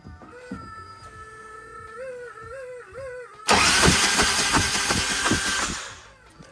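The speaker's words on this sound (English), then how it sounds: "I'm going to remove these spark plugs and just let the engine turn over" A Harley-Davidson Electra Glide Ultra Classic engine with its spark plugs removed cranks over on the starter, a loud, steady, rapid whirring churn that starts abruptly after a quieter stretch and runs for a few seconds before cutting off.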